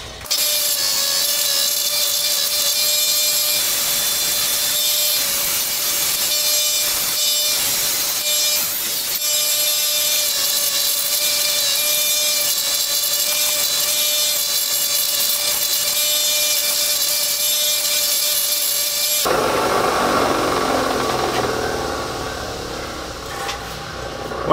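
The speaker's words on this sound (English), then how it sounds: "now I'm gonna come over and do the fine wire wheel" A fine wire wheel grinds steadily against a double bit axe head for about twenty seconds, a loud continuous whine that then cuts off and winds down as the wheel lifts away.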